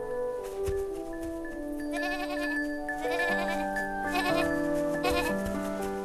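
Goats bleat repeatedly in wavering, nasal cries, several calls overlapping close by, over a steady background of music-like tones.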